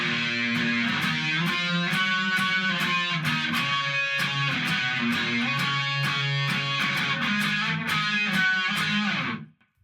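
Distorted electric guitar plays the solo from a song, a steady run of bright picked notes over a sustained low chord, loud and continuous before stopping abruptly.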